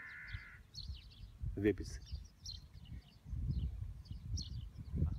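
Birds chirp and call among centuries-old trees near the coast at Çıralı in Antalya, faint scattered calls running beneath a person speaking up close.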